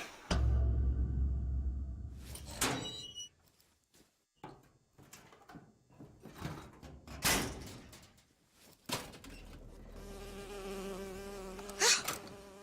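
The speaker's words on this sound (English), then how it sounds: "Oh, it's a bee." Bee buzzing in BioShock Infinite, a sustained droning hum rising near the end amid scattered thuds, clanks and bursts of game noise, with no speech.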